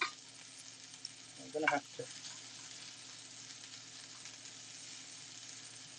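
Bacon and bacon lard with onions sizzle in a frying pan as a steady, quiet hiss beneath everything, with a brief stirring clatter near the start and a voice speaking over it.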